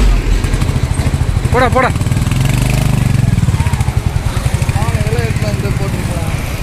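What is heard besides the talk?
Royal Enfield Bullet motorcycle engine running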